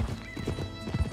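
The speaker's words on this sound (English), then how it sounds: "It's two men on a horse" Horse hooves clip-clop in Red Dead Redemption 2, close and steady with a few quick dull thuds, carrying two riders over open ground near a dried-up creek.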